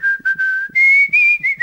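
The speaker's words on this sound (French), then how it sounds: "je sifflote comme tout le monde" A man whistles a tune in clear, loud sustained notes with short breaks between phrases, the melody stepping gently up and down, alone with no other sounds.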